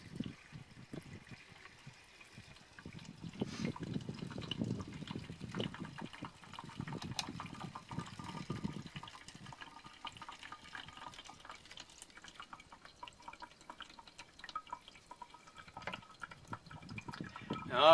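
Water is poured slowly through a homemade sand filter built to recycle laundry wastewater, trickling and dribbling faintly and close by, with irregular drips and a short gap before the flow resumes.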